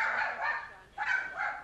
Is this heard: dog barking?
yes